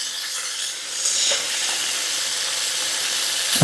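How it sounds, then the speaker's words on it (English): Onions sizzle steadily in a hot pan, a broad, close frying hiss with occasional soft crackles and stirring sounds, heard alone with no talking. "I want to put these onions in here"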